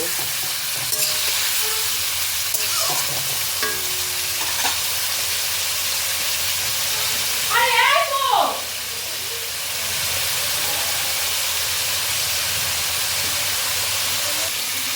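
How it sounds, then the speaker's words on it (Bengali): Boiled young jackfruit fries in hot oil with a strong, continuous sizzle and hiss, close and loud, with occasional stirring clatter and a burst of louder bubbling partway through, and no talking. "এঁচড়টাকেও আমি তেলের মধ্যে ফ্রাই করে নেব"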